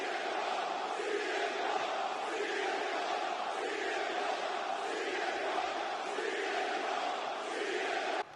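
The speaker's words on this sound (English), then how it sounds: "And all the fans in Toronto love and adore CM Punk" A Toronto crowd of fans in a WWE wrestling video game cheers in a loud, continuous roar with rhythmic swells of chanting, sustained for several seconds.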